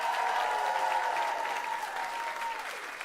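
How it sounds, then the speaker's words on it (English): Sustained audience applause for guests of honor at a science-fiction convention's closing ceremony, a dense, steady wash of clapping from a large crowd lasting the full three seconds with a faint tone running beneath. "One more round of applause for all of our guests of honor."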